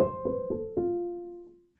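A sampled piano from a custom library in Kontakt plays four quick notes, the last one sustained and slowly decaying into silence, clean and close.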